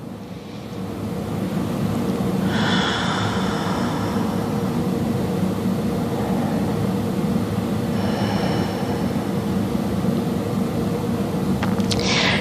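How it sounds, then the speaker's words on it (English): Two slow, deep breaths drawn close during a restorative Pilates workout, each a soft rushing swell of air rising and fading over a steady low background hum, with no talk. "Two more deep breaths."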